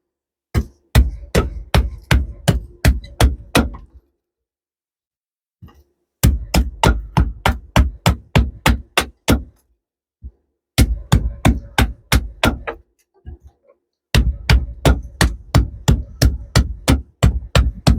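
A knife blade chops into a wooden stick, shaping a pointed stake tip outdoors: sharp, evenly spaced blows in four quick bursts of about eight to ten strikes each, separated by short pauses, close and clear.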